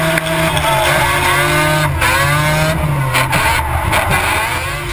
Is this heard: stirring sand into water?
no